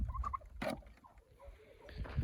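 A turkey gobbles close by in short rapid warbling bursts, with a sharp sound near the middle and low rumbling background noise.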